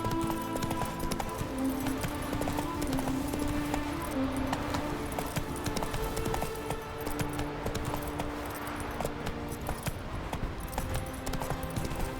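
Roach, Geralt's horse in The Witcher 3, gallops with a steady rapid clip-clop of hooves and jingling tack, close and continuous amid a busy battle soundscape.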